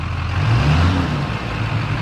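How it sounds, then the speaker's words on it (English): A Duramax diesel truck engine with a cold air intake, close by, lifts briefly in pitch and loudness as it revs, then settles back, with a rough low rumble throughout. "Rev it up a little bit."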